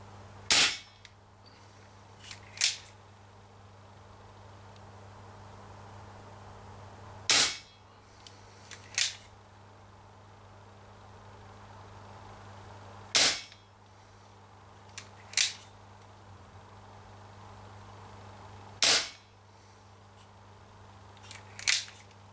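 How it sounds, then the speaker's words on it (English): A Marlin CO2 revolver fires 6mm BBs at a can outdoors, with sharp loud pops in spaced pairs, each shot followed moments later by a quieter metallic ping of the BB striking the can, over a low steady hum. "Now I can see the BBs are starting to bounce off the can, the upper part of it."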